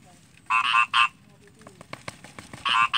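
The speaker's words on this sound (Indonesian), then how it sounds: "sambil diiringi suara katak ya, sangat merdu sekali" Frogs croak outdoors in short, buzzy bursts, a pair of loud croaks and then another later, among scattered clicks and light background sounds near a corn field.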